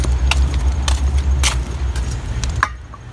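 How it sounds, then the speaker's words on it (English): Toyota Camry V6 car engine idling steadily up close with a low rumbling hum, broken by a few sharp metallic clicks and jingles, before the engine cuts off near the end. "we're going to restart the car"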